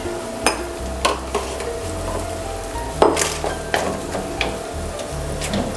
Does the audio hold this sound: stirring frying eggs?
yes